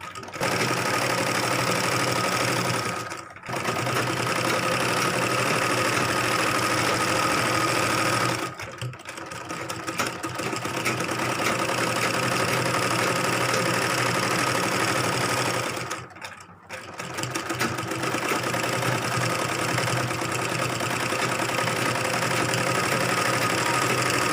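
A sewing machine stitching a seam on a gagra, running in a steady fast mechanical whir close up, with a few brief pauses between long continuous runs.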